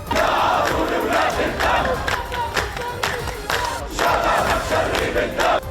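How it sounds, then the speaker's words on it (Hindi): Hamas supporters gathered in the streets of Ramallah in the West Bank, clapping and chanting slogans in mourning for a killed commander; a dense, loud crowd with rhythmic shouted chants and scattered clapping, sustained throughout. "लोग तालियां बजाकर नारे लगाने लगे।"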